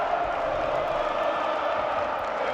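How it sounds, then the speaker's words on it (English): PAOK basketball fans in an arena, heard as a dense, steady roar of crowd voices holding a continuous chant throughout, loud and sustained with no pauses. "And you can hear the PAOK fans singing Jermaine Love."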